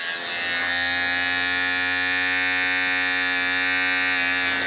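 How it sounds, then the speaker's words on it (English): Electric hair clipper running during a buzz cut with an ice pick taper, a steady close mechanical hum with a strong tonal drone that holds constant throughout, with a couple of faint clicks. "I like to hold the clipper this way."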